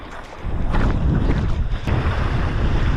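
Strong wind buffets the microphone on a windy beach during a fishing trip, a loud, continuous low roar with gusts.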